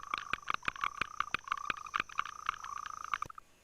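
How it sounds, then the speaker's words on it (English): Shoemaker frogs call at dusk beside the Irwin River, giving a rapid run of sharp, tapping clicks like a small hammer on a shoe, close and steady with a faint background hiss. "The name shoemaker resembles the sound of a small hammer repairing a shoe, hence the name shoemaker frog."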